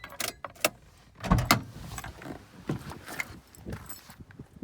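Two keys for a Mazda Bongo camper van jangle and clink in short metallic bursts, close by and fairly quiet, with scattered handling knocks between the jingles.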